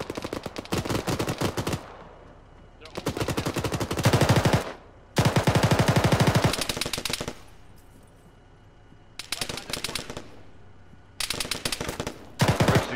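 Loud sustained bursts of automatic gunfire in the military shooter Arma rattle close by, several long volleys separated by brief quieter gaps.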